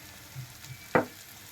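Spices, including salt, turmeric and chili powder, fry in a pan for fish curry. A soft low sizzle is broken by one sharp, close scrape-and-sizzle burst from a stir.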